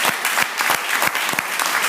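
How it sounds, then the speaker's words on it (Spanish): Brief burst of church congregation applause, steady dense clapping from a crowd with no talk over it. "Un aplauso fuerte al Señor."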